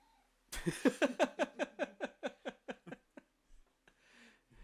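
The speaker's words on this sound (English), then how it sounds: "My cat is pissed." An irritated house cat gives a rapid series of about a dozen short, loud cries indoors during a tabletop wargame session; the cries weaken and trail off into a few faint sounds.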